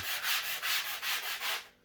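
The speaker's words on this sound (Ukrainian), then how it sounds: "беремо наждачний шліфувальний брусочок з мінімальним зерном і легенько пробігаємося" A fine-grit sanding block rubs over tape laid for geometric decor lines, making about five close, rhythmic scratchy strokes with no talk.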